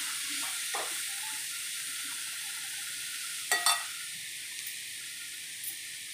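Green chillies and tomatoes boiling in hot water give a steady, soft hissing bubble that runs throughout, broken by a couple of brief clinks near the middle.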